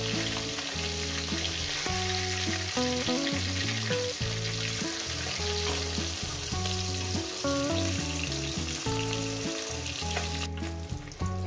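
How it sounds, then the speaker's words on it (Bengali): Parshe fish sizzle steadily in hot oil in a pan, with a continuous frying hiss under background music. "বাদ বাকি মাছগুলো আমি দিয়ে দিচ্ছি বন্ধুরা, ভেজে নিচ্ছি।"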